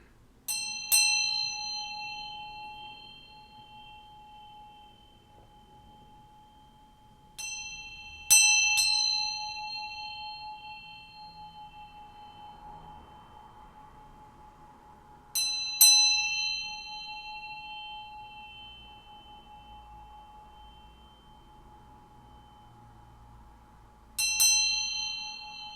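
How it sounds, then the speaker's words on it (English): A small hand bell struck four times at roughly eight-second intervals, each bright ring decaying slowly into quiet room tone, close and clear with no talking. "So I'm gonna ring this bell a few times."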